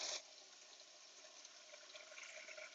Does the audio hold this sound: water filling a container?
yes